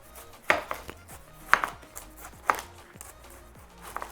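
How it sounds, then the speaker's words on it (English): A knife chops down through a pineapple on a cutting board, three sharp, distinct thuds spaced about a second apart, with lighter knocks between them and no talking. "So I'm gonna start by removing the top."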